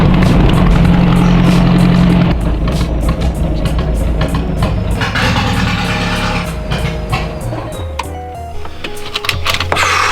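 An Audi TT TDI drives steadily, its diesel engine and road noise forming a loud, continuous drone with a low hum that drops away after a couple of seconds.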